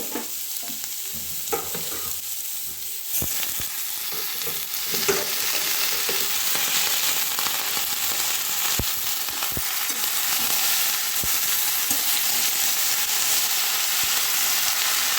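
Vegetables with chilli and turmeric powder for a spinach chorchori sizzle steadily in a pan with a little oil, with scraping stirs and clinks throughout; no talking.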